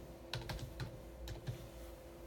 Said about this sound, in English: We will type 50